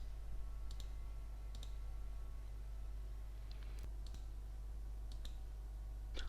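A computer mouse clicking through a list in an Excel spreadsheet: a series of sharp, faint clicks at irregular intervals over a steady low electrical hum.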